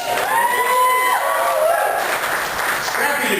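A comedy club crowd claps and cheers in a dense, steady roar of applause and whoops that carries on throughout.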